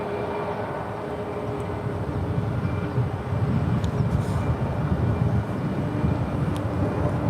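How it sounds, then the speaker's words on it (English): An Alaska Airlines Boeing 737 MAX 9 at San Francisco International Airport makes a steady, moderately loud jet engine roar that holds throughout, with no talk. "That is Alaska Airlines Flight 1449 heading to Seattle, Washington. It's a 737 MAX 9."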